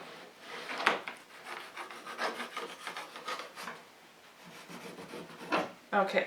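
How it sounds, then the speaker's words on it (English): Knife scraping aloe vera flesh away from the leaf's skin, making close, soft rasping and rubbing strokes in an uneven series, with a brief spoken word near the start. "what that's doing is just peeling that flesh away from the skin."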